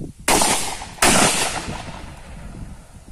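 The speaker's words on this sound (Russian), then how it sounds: "Вот так вот он стреляет дуплетом" A TOZ-34 double-barrel shotgun fires, giving two loud, sharp blasts about three-quarters of a second apart, each trailing into a long outdoor echo.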